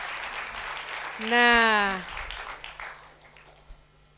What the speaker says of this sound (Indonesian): tepuk tangan dari capres yang satu ini